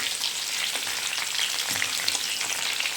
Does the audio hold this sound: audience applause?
no